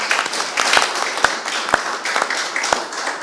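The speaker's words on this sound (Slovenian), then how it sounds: "še enkrat iskren aplavz" Applause from an audience for musicians at a Slovenian Armed Forces Day event: a sustained wash of clapping with a few sharp, louder individual claps standing out.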